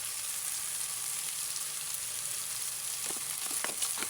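Red chilli powder, salt and cumin roast in a pan with a faint, steady sizzle, and a few light spoon scrapes and taps come near the end.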